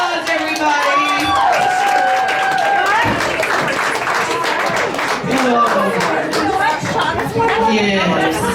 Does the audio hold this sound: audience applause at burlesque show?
yes